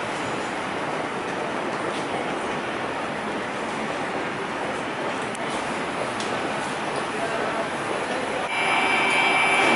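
A train rumbles at a station on the line between Brussels and Kortrijk, a loud, steady broadband roar with a slight rise at the end, likely an arriving or passing train.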